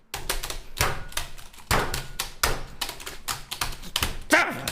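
A voice mimics frantic keyboard typing with rapid, irregular bursts of percussive tapping and clacks, fairly close and loud, with no words spoken.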